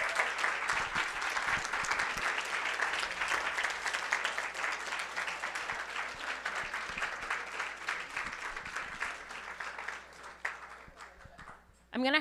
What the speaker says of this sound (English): give a round of applause to all 3 speakers